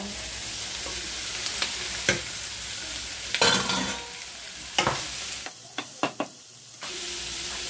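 Pork sizzles loudly in a pan with onions as it is stirred, steady frying hiss broken by scraping clacks of the spatula and a few sharp knocks near the end.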